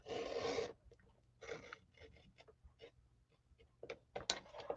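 Card paper for a Christmas card is being cut, heard as close, dry rasping strokes: one long scrape, then a series of shorter uneven cuts and rubs with small pauses between them.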